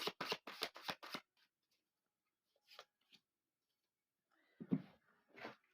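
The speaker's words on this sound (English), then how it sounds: "while I shuffle the other deck" A quick burst of rapid riffling clicks from a deck of cards, then a few scattered taps and rustles, and a couple of louder shuffling bursts near the end.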